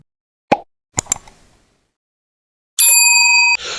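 A soft pop and a few quick clicks, then a bright ringing bell ding that sustains for under a second before cutting off.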